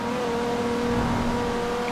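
Nissan car engine in Forza Horizon 4, a steady droning hum with a sustained tonal whine, held at constant intensity without revving up or down.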